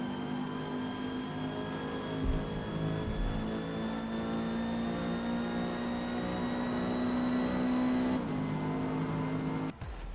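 A Renault 8 Gordini races in a D-Class event at Catalunya in Forza Motorsport, its engine droning at a steady high pitch through a long held gear, briefly dipping at a shift before climbing again.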